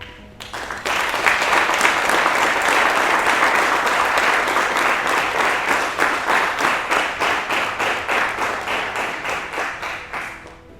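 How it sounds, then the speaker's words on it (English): Graduating class standing and applauding their instructors, a loud, sustained burst of many hands clapping that builds quickly, holds steady, then breaks into a slower rhythmic beat near the end. "turn around and applaud your instructors."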